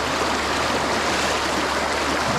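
Continuous rushing of a swift, rain-swollen creek at high water, a dense even roar close by with no voices over it.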